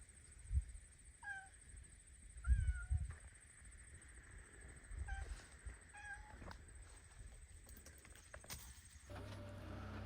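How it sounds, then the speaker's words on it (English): Cats on a farm give several short, rising meows, some close together and others spaced apart, over a quiet outdoor background with a faint steady high whine and a few low thumps. "The cats are watching you"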